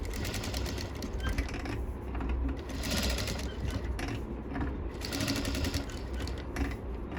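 A sewing machine stitches a sleeveless blouse with a keyhole opening, running in a steady, rapid rattle that is close and continuous, with brief changes in speed.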